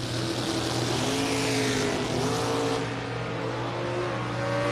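Drag racing at a strip event, a Mustang and a Camaro: a loud, steady engine roar with rising and shifting tones, continuous throughout and fairly close, with no talk.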